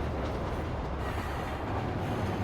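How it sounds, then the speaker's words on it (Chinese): Qinling green train No. 6063 crosses a bridge in the Qinling mountains, heard as a faint, distant, continuous rolling rumble of rail cars with no talk over it. "这有个火车过来，从这边穿过来"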